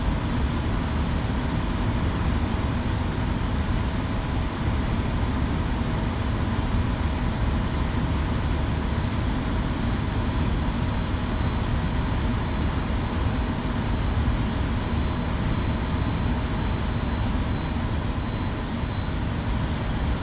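An F-86F jet in flight in the DCS World flight simulator gives a loud, unbroken engine roar with a steady high whine, constant and alone for the full length.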